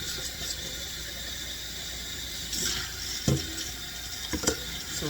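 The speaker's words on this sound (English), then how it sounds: "So I'm about to rinse it out." Tap water running to rinse out a cup that held strawberry kiwi juice: a steady faint hiss of flowing water at a sink, with a few soft knocks and splashes near the end.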